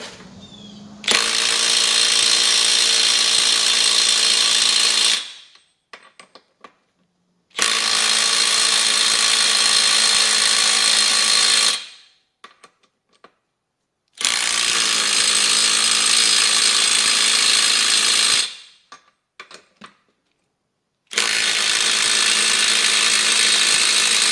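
Milwaukee M12 FUEL right angle impact driver with a 2.0 Ah battery, running in four loud, sustained bursts of several seconds each, separated by short pauses, close up and with no voices.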